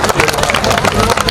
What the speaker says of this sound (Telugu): ఆమోదాన్ని గట్టిగా చప్పట్లతోని ఆమోదించవలసిందిగా కోరుచున్నాను